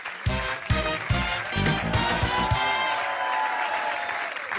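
A TV game-show studio audience claps loudly and evenly, a burst of applause that runs throughout and slowly fades, with brief speech at the start.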